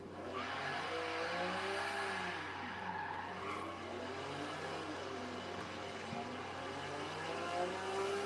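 A car driven in the racing video game Forza Horizon 3 revs and whines through shifting engine tones with tyre squeal, steady and moderately loud throughout, with no voices over it.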